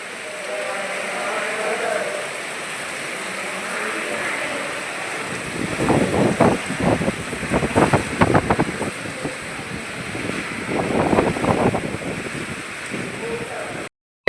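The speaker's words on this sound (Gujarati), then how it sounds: "જો મિત્રો, વાવાઝોડું ચાલુ છે." A strong storm wind roars and gusts through heavy rain, with a steady rushing wash that swells into louder bursts midway before cutting off abruptly, and a voice heard faintly at times.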